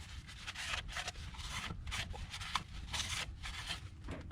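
A rag wipes and rubs around the intake manifold ports of a Mazda CX-5 2.5L engine, quiet repeated scrubbing strokes in a steady back-and-forth rhythm.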